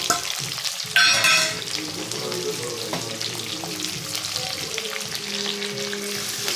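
Upma ingredients with ground green chilli and a pinch of asafoetida sauté in a hot pan, giving a steady close sizzle and frying hiss with stirring scrapes and a brief louder crackle near the start.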